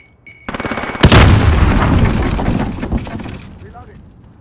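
A grenade explodes in Call of Duty: Modern Warfare with a loud, sudden blast and a long, rumbling decay. Gunfire clatters around it, and voices talk over the action.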